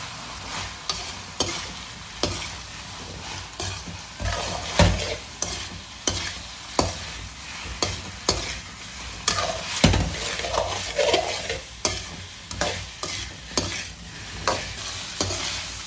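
Idli pieces stirred through chilli sauce in a pan with no frying, the spoon scraping in steady regular strokes about every second over a soft, continuous sizzle.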